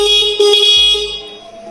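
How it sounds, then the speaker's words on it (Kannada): A single close horn beep from an Ampere Magnus Grand electric scooter, a steady electronic tone held for about a second before it cuts off, with no talking. "ಒಂದ್ಸತಿ ಹಾರನ್ ಸೌಂಡ್ ಕೂಡ ತೋರಿಸ್ಬಿಡ್ತೀನಿ"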